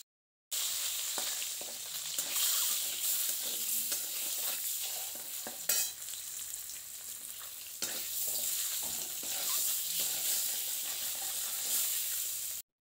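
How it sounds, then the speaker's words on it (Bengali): Eggs frying in a pan, a steady close sizzle with scattered crackles and a few stirring scrapes, running without pause. "এখানে দেখো আমি ডিমগুলো আগে ভেজে নিচ্ছি।"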